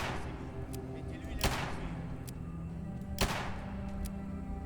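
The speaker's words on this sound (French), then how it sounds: "On va essayer de lui mettre un headshot avec cette arme." Two sharp, loud gunshots from a weapon in the video game Fallout 4, spaced about two seconds apart over a steady background hum and soft game ambience.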